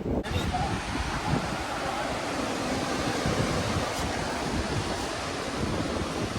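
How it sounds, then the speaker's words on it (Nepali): Water of a natural mountain stream in North Sikkim flows and falls in a steady, loud, close rush that fills the whole clip, with no talking over it. "गाई यो झर्दै गरेको चाहिँ नेचुरल पानी हो।"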